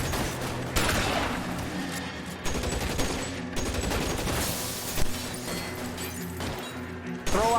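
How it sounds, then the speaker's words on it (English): Shotgun gunfire from the video game LA Noire plays as a rapid fusillade of loud booming blasts and crashes in bursts, with dense game action sounds throughout. "I'm busting the shotty out on him."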